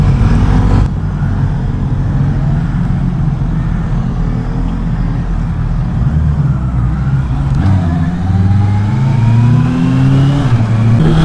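A 2024 Honda CB650R E-clutch A2 motorcycle pulling hard, its engine revving up in loud rising sweeps with clear breaks where gears shift, heard close with no voices.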